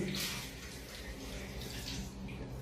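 Tap water running steadily during ritual ablution, a soft continuous splashing stream heard close and fairly quiet without pause.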